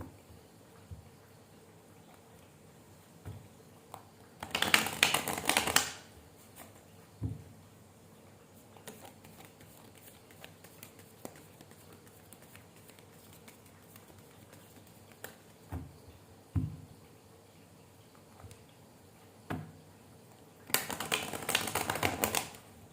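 Tarot cards being shuffled give two bursts of crisp riffling, each lasting about a second, separated by a long quiet stretch with faint handling taps and rustles.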